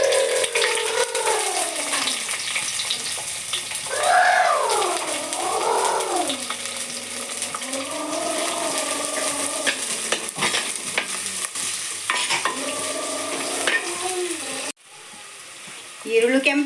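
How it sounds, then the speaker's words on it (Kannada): Onions drop into cumin seeds frying in hot oil in a pan, producing a continuous close sizzle with stirring, while a melodic voice or music runs over it. "ಇವಾಗ ನಾನು ಈರುಳ್ಳಿ ಹಾಕ್ತಾ ಇದ್ದೀನಿ."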